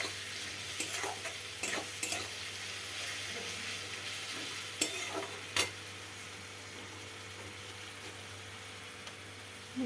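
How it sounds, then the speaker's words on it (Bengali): Garlic fries in hot oil with onions, a steady soft sizzle under an electrical hum, broken by a few sharp scraping stirs of a utensil in the pan. "আগে রসুনটাই দিচ্ছি, রসুনটা একটু ভাজা হোক"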